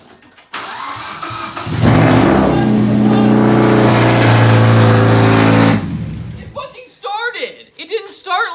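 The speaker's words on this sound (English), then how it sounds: "I'm going to try to start the car" A Mazda Miata engine with a failing engine cranks, catches and runs with a loud, steady drone for a few seconds before cutting off; voices follow afterward.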